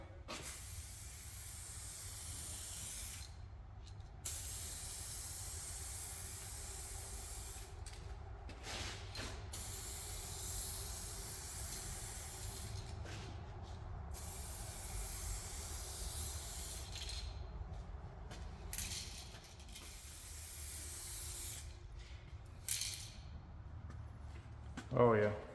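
Broad steady spray hiss from paint being applied as a second coat on a Volkswagen GTI, running nearly continuously with brief pauses, close and fairly loud.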